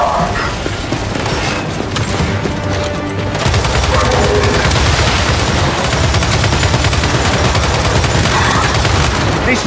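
Turret gunfire in Gears of War 5 during a battle, loud sustained rapid-fire bursts that intensify partway through and continue without pause, dense and close.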